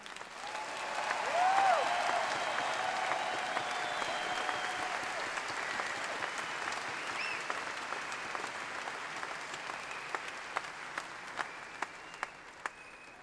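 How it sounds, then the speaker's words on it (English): An audience at a network-marketing promotion event applauds a newly promoted husband, a dense wash of clapping that swells early then settles into a sustained, even roar, with a few sharper individual claps standing out near the end. "give a big round of applause for my husband, Mr. Greg Ferraro"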